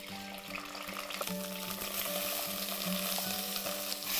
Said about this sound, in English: We'll just toss these prawns in the coconut oil for a few seconds.